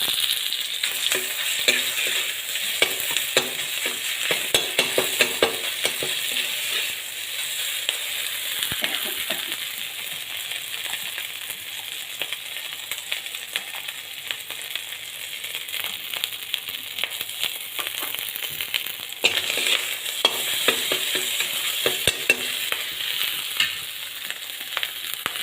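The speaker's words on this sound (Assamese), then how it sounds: "আলুখিনি ভাজি দিওঁ।" Potatoes fry in oil with a bay leaf and dried chilli, giving a steady close sizzle with continual stirring scrapes and crackles throughout, no talking.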